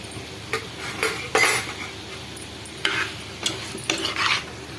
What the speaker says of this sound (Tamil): அது கூட சிக்கனை போட்டு வதக்குறேன்.